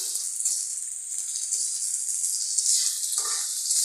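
Washed bottle gourd peels frying in a hot pan, a steady bright sizzle and hiss with small crackling pops and a brief stirring scrape, no talking.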